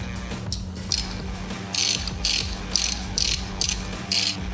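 A ratchet drives a bolt into the shift link arm on a Harley-Davidson Iron 883 motorcycle, with several quick bursts of close, crisp clicking separated by short pauses, over a low background hum.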